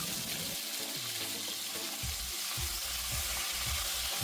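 Long-cut potatoes, soaked in water beforehand, fry with crushed cumin in a pan, sizzling loudly throughout while a spoon scrapes and stirs them in repeated strokes.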